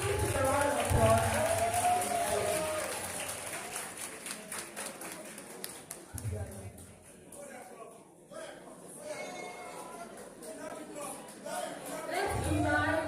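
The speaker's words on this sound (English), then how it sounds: "Please give a round of applause." An audience at a student debate competition applauds, dense rapid clapping rising and falling over several seconds with crowd murmur, fairly close and steady.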